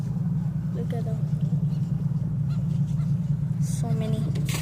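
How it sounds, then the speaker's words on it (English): A flock of birds honking close by, goose-like calls in short bursts near the start and again near the end over a steady low engine hum, with people talking. "The birds are following us. It's so close to us."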